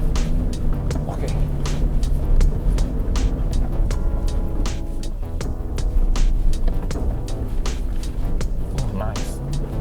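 A Toyota Fortuner 4x4 GR Sport accelerates along a dry straight, its engine droning steadily at a loud level throughout while people talk over it.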